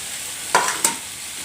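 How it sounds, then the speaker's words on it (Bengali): Potato and tomato stirred in a frying pan for a Bengali-style egg curry, with a steady sizzle broken by two distinct scraping strokes of the spoon, close and fairly loud. "এখন আলু আর টমেটোটি ভালোভাবে নাড়াচাড়া করে নেব।"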